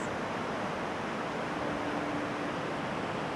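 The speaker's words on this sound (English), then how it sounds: "a tributary of the river Gifre flows through this gorge which has been carved out through the limestone centuries ago" Tributary of the river Gifre rushing through a deep limestone gorge, a steady, dense roar of water that stays constant throughout, with no talking.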